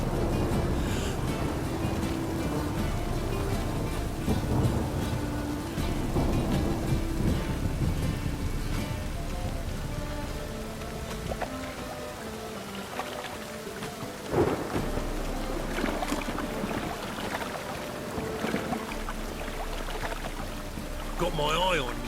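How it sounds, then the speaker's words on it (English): Rain pours steadily during a thunderstorm in The Witcher 3, with deep rolling rumbles of thunder under a constant dense patter, the sound low and heavy throughout. "A storm, damn it."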